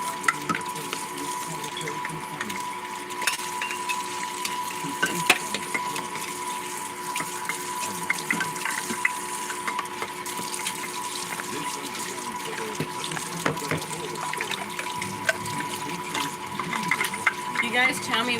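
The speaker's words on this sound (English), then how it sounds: "I'm gonna wash our measuring cups" Measuring cups are washed under a running kitchen tap, with steady splashing water and occasional clinks over about eighteen seconds.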